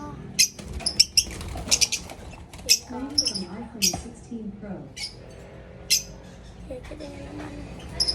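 Caged birds squawk and flap their wings in sharp, scattered bursts while a person talks over the commotion.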